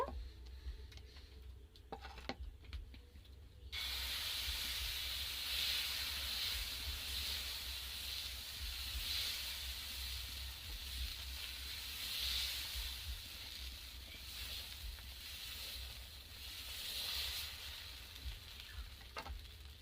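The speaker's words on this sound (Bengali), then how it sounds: "তাওয়ার মধ্যে হালকা করে একটু তেল ব্রাশ করে দিচ্ছি এক হাতা নিয়ে দিয়ে দেব" Batter poured onto an oiled tawa griddle sets off a sudden loud sizzle that holds as a steady close hiss and crackle, with small clicks before it and no voices.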